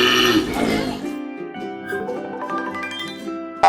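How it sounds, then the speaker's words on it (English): A koala gives a brief, loud, low grunting bellow with a burp-like, throaty texture, heard up close with nothing else around it. "A koala sounds like this."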